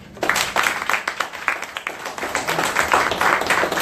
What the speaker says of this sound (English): give us a nice applause for our brother who volunteered his services to us, Brother William Murray